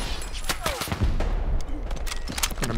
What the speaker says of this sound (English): Oh, there's a machine gun over there somewhere.